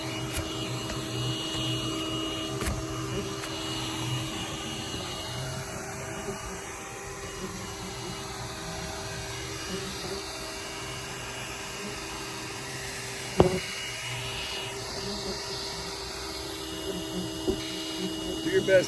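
A vacuum pulls yellowjacket wasps from a ground nest, giving a steady mid-level motor whine and airflow hiss throughout, with a sharp knock near the middle and a few bumps toward the end.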